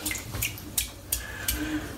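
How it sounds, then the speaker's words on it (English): A Wolf Whiskers shaving brush with a fan knot is dipped in water, giving soft splashes and sloshing bursts that recur about every third of a second over a light running-water background, close and fairly quiet. "So let's get it dipped in the water."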